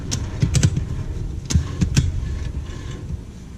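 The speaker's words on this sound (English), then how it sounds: "So I'm going to start ratcheting this up." A ratchet strap is cranked tight around a trailer tire, giving short clustered clicks in two bursts, close and moderately loud, with no talk.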